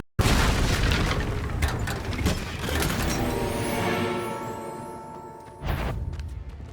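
Confringo fire spell blasting in the video game Hogwarts Legacy: a loud booming explosion with a long rumbling tail, followed by a second burst near the end, with no talk.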